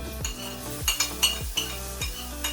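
Potatoes frying in oil with cumin, ginger and chili get stirred with a metal utensil, giving four or five quick scraping clinks against the pan over a soft sizzle, close and fairly loud.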